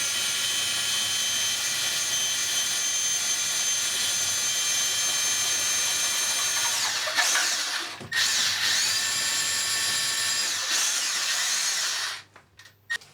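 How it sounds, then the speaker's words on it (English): A power drill bores straight into a thermalite block wall with hammer action off, giving a loud, steady high-pitched whine for about seven seconds. It dips briefly, resumes, then cuts off near the end. "I'm just going to drill straight through without hammer action on"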